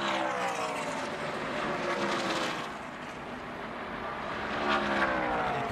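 Racing trucks roaring along the straightaway of a Texas race track, one drafting behind a faster truck, a continuous loud engine drone that swells and eases as they pass at a distance, no talk.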